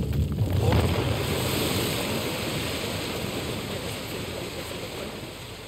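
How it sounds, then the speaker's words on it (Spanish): Rushing waterfall in the video game Uncharted: The Lost Legacy, a steady broadband roar of falling water that holds at an even level for several seconds, with no voices over it. "Otra cascada."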